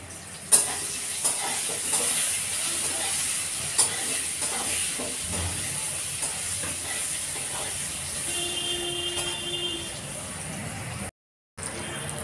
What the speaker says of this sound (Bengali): দেখো বেগুনটা একটু লাল লাল করে ভেজে নিলাম।